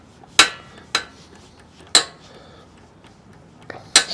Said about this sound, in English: I'm putting a little 7/16 wrench on the inside